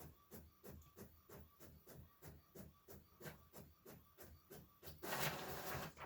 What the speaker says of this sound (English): it's printing now